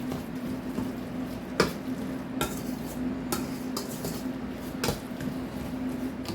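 Mushroom burger mixture being stirred and mixed by hand, heard as a continuous scraping churn broken by several sharp knocks of the utensil against the container.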